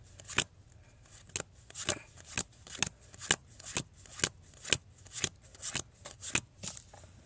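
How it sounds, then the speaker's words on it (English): Playing cards dealt out one at a time for a card trick, giving a steady series of crisp snaps and flicks, about two per second, close and alone. "I'm going to give us each 15 cards"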